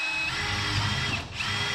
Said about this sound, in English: we're just gonna drill a couple holes up in each corner.